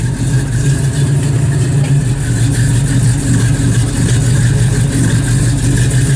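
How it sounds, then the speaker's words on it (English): A 1969 Pontiac Firebird with a 400 engine and an upgraded cam runs loud and close, a steady, throaty, rumbling idle that holds even throughout with no voices. "Just a really good sounding driving car."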